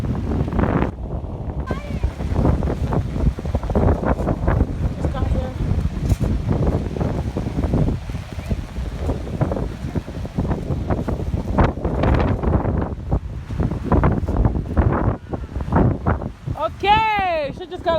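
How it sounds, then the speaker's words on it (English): Strong wind at a beach buffets the microphone in steady, loud gusts that run through the whole stretch, with people talking over the roar throughout. "It's just too windy today, but it's very nice."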